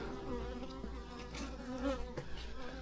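Agitated honeybees buzzing inside a porch column, a dense, close, continuous droning swarm with a few individual bees flying past.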